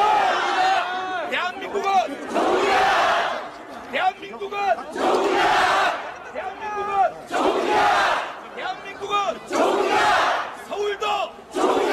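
A crowd at an outdoor election press conference in Seoul shouts in repeated loud bursts, like a chanted cheer, with amplified voices and crowd noise throughout.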